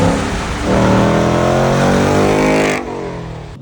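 A loud, deep Ford Mustang GT V8 exhaust revs hard and holds a throaty roar, then eases off slightly near the end. The engine sounds close.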